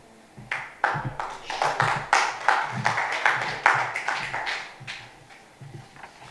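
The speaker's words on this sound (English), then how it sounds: "not often do you hear a prayer greeted by a hand clap" Scattered hand claps from a small group after a prayer at a football media launch, irregular and fairly close, rising and falling over several seconds with low voices murmuring underneath.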